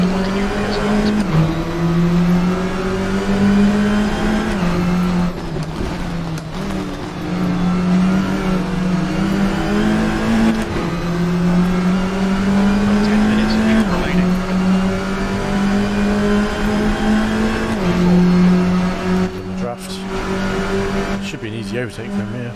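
Touring race car engines in the Assetto Corsa TCR video game drone and rev continuously, pitch rising and falling with gear changes, with voices talking over the steady engine noise.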